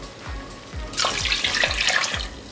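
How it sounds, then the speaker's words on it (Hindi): Hot water is poured from a small cup into a pot of fried goat meat stew, a steady splashing pour that swells louder partway through, with faint stirring knocks underneath. "अब इसमें 4 छोटे कप गर्म पानी ऐड करेंगे।"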